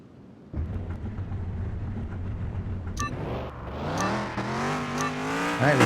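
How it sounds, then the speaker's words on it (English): A car in Car Mechanic Simulator 2021 idles, then revs and accelerates on a racetrack, the engine note climbing through rising harmonics after a sharp click, loud and close with no talking. "We want to drive the car. We're going to the track."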